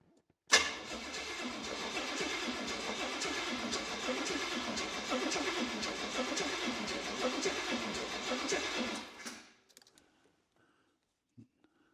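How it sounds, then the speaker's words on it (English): A Cadillac 500 V8 engine swapped into a car cranks over repeatedly in a steady, loud grinding churn for several seconds without starting, with no fuel in the fuel bowl, then stops abruptly, followed by a few faint clicks. "this will be exceedingly loud, provided it actually starts."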